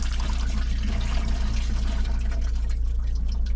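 Water coming to a boil on an appliance powered through a power inverter: a steady low electrical hum under a continuous bubbling, pouring-like hiss, close and with no voices.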